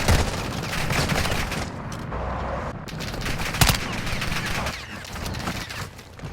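Sustained video-game gunfire in Call of Duty, dense bursts of automatic fire with a few sharper single cracks, loud and close throughout with little pause.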